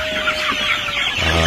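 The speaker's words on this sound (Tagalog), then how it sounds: "Healthy chicken" Native Filipino chickens (manok Pinoy) clucking close by on a farm, a steady stream of soft repeated clucks, with a deeper, more resonant burst of calls near the end.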